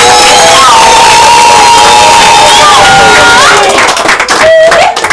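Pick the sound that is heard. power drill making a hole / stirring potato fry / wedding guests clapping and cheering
wedding guests clapping and cheering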